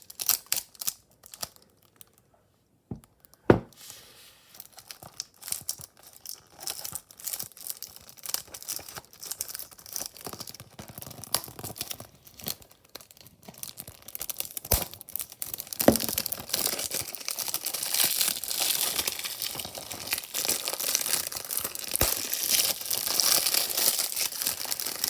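Plastic wrap is crinkled, crumpled and torn off a DVD case in a long run of close, irregular crackles and rips that grow denser and louder toward the end.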